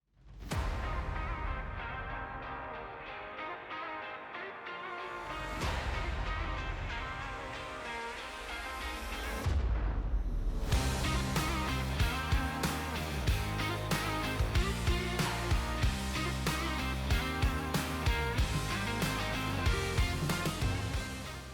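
A rebuilt metal planer machine starts up with a rising electric motor whine, pauses briefly, then runs steadily with a loud, dense mechanical hum and rhythmic clatter that continues throughout.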